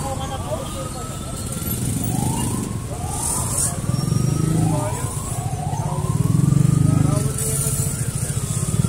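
Several motorcycles ride in past roadworks, their engines rising in a series of sweeping revs over a busy street rumble while people talk nearby.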